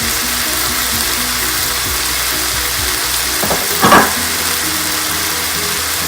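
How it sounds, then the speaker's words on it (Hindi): Onions frying in a pan for prawn biryani give a steady, close sizzle throughout, broken by one brief clatter of a utensil partway through. "उसके बाद जो ऑनियन है वो थोड़ा थोड़ा डालेंगे"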